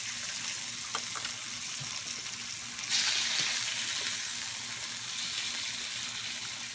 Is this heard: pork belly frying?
yes